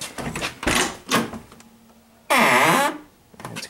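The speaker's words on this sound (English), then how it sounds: "And squeaky door." Squeaky door of a Volvo 242 Turbo car: a loud, strained creaking squeal in one sustained burst, set between several duller knocks and thuds of handling nearby.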